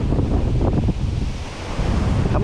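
Wind blows hard beside the water during a catfishing outing, a loud, close rumbling gust roar mixed with surf-like wash that dips briefly before surging again.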